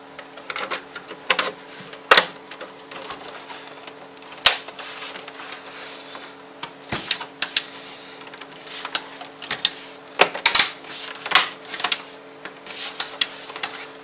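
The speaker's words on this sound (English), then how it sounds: "Next, we'll be placing the 6 Torx screws." Six Torx screws are driven into an Xbox 360 console casing, producing sparse, irregular clicks and short scraping taps close by in an otherwise quiet room.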